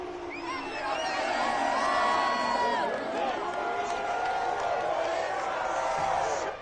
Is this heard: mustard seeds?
no